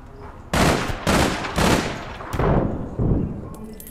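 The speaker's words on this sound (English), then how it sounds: "they can mow us down for that machine gun way up there" Machine gun fire in the video game APB Reloaded, five loud sustained bursts in quick succession, close and harsh, with no talk over them.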